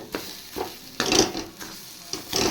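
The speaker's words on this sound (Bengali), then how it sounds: "পুরো গলে যাওয়া পর্যন্ত আমি এটা নাড়তে থাকব।" Sugar being stirred in a kadai over low heat with a spatula, a few scraping strokes with soft sizzling between them, fairly close and with no one talking.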